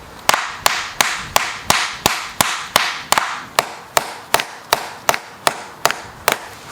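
A plastic mallet strikes a motorbike sprocket in a home work shed, about twenty sharp, evenly spaced knocks in a steady rhythm, close and loud with short decays and no talking.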